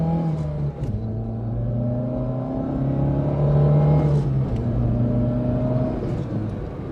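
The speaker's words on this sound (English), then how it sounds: "Panda 4x4 power run." A Fiat Panda 4x4 in standard, non-turbo form accelerates hard on a power run, its engine note climbing through the gears in steady rising sweeps with brief dips at each shift, loud and close throughout.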